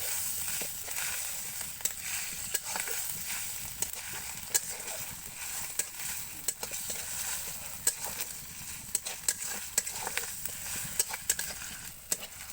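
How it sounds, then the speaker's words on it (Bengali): Ginger paste stir-fried with fried onions in a pan sizzles with a steady hiss, broken by repeated sharp clicks and scrapes of the spatula at an irregular pace. "আদা বাটা দিয়ে কিছুক্ষণ আদাটাকে কষিয়ে নিতে হবে"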